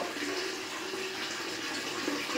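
Water runs steadily from a bathroom tap, a continuous close hiss and splash with no pauses across the short stretch.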